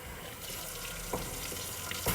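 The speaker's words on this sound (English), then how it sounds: "doing some dishes" A tap runs steadily while dishes are washed in a kitchenette sink, with faint clinks and splashes over the continuous flow of water.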